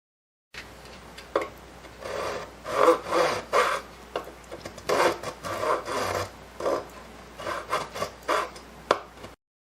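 Repeated rasping strokes of sandpaper on the wooden side of a Gibson A mandolin with bulging sides, close and steady in uneven bursts, with no voices.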